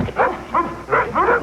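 A puppy gives a few short, close yips and barks in quick succession, with a slightly whiny tone.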